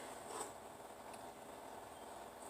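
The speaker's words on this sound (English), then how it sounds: "But I really like this bread. So I'm just going to cut a couple slices of that" A knife saws through a loaf of bread in a home kitchen, making faint, close rasping strokes over a couple of seconds.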